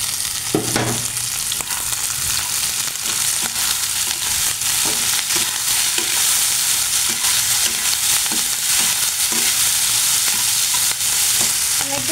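Loud, dense sizzling fills a pan where prawns fry with green chillies, with steady scraping and stirring taps throughout and no speech.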